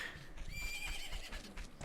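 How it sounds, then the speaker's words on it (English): Epona, the horse in the video game The Legend of Zelda: Majora's Mask, gives a clear, bright neigh with a few soft hoof clops beneath it. The sound is moderately loud and close, with no speech over it. "Oh my gosh, it's my freaking horse!"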